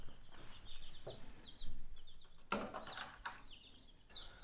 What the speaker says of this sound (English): We do have 32 chicks in here.